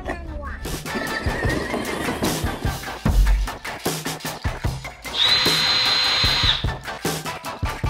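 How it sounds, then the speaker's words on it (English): A power drill whirs against spinning rivets inside an Airstream trailer during interior panel removal, a steady high whine for about a second and a half amid clatter, bumps and background noise. "the rivets are spinning, so the drill can't really, like, you know, drill, because it relies on spinning"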